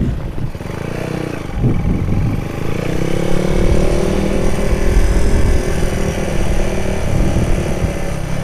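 A white Honda Megapro and a stock Honda GL100 Tiger revving together, a loud, close, rough engine drone rising and holding with a rattly edge.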